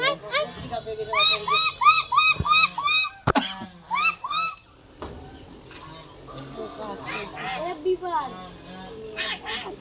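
Geese eating rice give a run of loud, nasal honking calls in quick succession close by, followed by softer chatter of voices and background noise.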